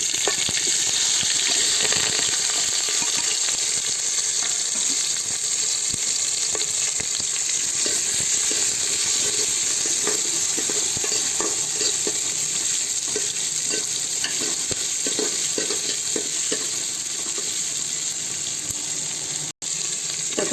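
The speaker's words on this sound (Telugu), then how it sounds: "ఒక 2 నిమిషాల పాటు బాగా వేగనివ్వండి ఎర్రగడ్డలు అవన్నీ" Onions fry with hingu in a pan for an Andhra tomato bajji recipe, a loud steady sizzle with scraping stir strokes throughout, no talk.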